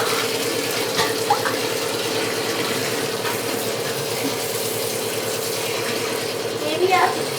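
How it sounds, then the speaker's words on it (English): Water pours steadily from a leaking plumbing pipe, a constant close splashing rush that runs throughout, with people talking over it at moments. "It's pouring like crazy."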